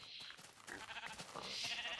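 Sheep bleating in a video game, a couple of nasal bleats rising and falling over about two seconds with faint game ambience beneath.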